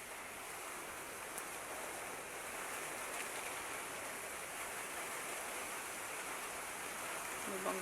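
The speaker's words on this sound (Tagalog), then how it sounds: "Tapos umuulan pa guys sa labas." Steady rain falling outside during a typhoon with floodwater around, a continuous even hiss throughout with no breaks.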